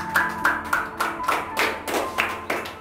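A short series of sharp, regular hand claps, about ten in quick rhythm, close and fairly loud, with no voices over them.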